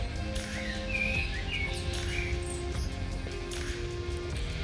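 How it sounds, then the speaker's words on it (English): Birds chirp and sing continuously against a steady outdoor hum in Zug, Switzerland, with bright, rapid calls rising over the background. "I think you can hear some of the birds singing behind me"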